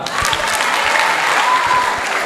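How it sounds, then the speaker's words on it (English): Audience at a youth day conference clapping steadily together, a dense, sustained wash of applause filling the room for a couple of seconds, with faint voices mixed in. "Clap for her."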